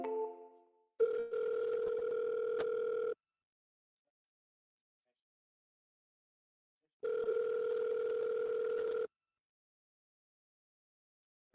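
A telephone call's ringback tone sounds twice, each a steady electronic burst about two seconds long separated by a long silence, clear and alone.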